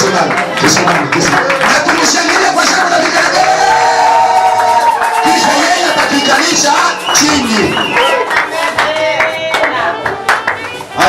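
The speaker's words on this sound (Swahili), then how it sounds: "Na tumshangilie kwa shangwe na vigelegele." A church congregation erupts in loud clapping, cheering and high ululating cries, dense and continuous, with a voice speaking over the crowd.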